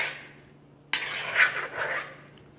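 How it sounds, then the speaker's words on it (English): Curry chicken salad ingredients with chopped apricots being folded into a sauce: a brief scraping of a utensil against a bowl, close and fairly quiet, alone without talk. "Continue mixing, fold your ingredients"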